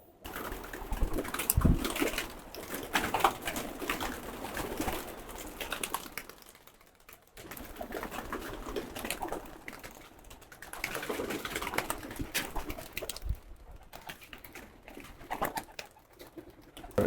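Giribaz pigeons cooing in a loft on a sunny day, soft repeated low coos mixed with light scratching and fluttering, fairly close and alone without speech.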